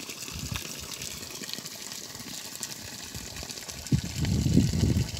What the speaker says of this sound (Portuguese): já começou a soltar água agora